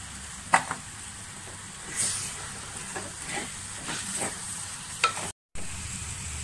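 Chili powder and fenugreek powder go into lemon pickle in a pan, giving a faint, soft sizzle broken by a few light scrapes and stirs, with no voices.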